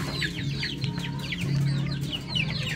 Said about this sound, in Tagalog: Ito manok ko.